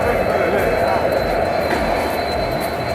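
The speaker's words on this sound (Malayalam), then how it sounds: "ഓക്കെ, ഇതാണ് നമ്മൾ വന്ന ട്രെയിന്" A passenger train on the Kerala to Mangalore route rumbles past loudly and continuously, with a broad rushing roar and a faint metallic whine throughout.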